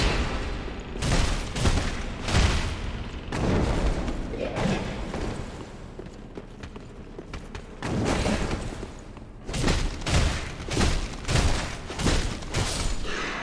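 Fire bombs explode in Dark Souls 3, a series of heavy booming thumps in bursts, some rapid and clustered, others spaced, loud and close amid game noise.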